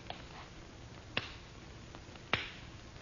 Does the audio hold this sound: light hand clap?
yes